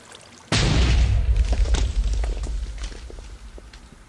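Grenade explosion in the Minecraft Flans Mod video game: a single sudden loud boom with a deep rumbling body that trails off over a few seconds, with scattered crackles.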